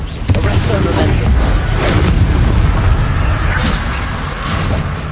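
A Bombardo spell going off in the video game Hogwarts Legacy, a loud booming blast with a rumbling roar that lingers for several seconds, mixed with other noisy combat sound.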